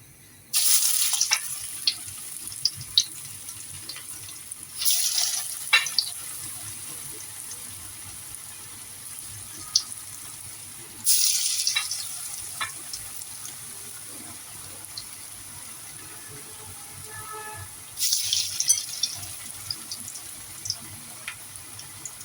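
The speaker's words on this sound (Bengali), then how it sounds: "উঠিয়ে নিলাম, আবারও নাস্তাটা দিয়ে দিচ্ছি।" Snacks deep-fry in hot oil, with several loud bursts of sizzling as pieces go in, then a quieter steady bubbling between them.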